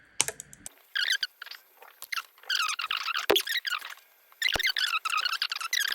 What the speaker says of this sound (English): I just hold it up against the edge of the metal and give it a little snip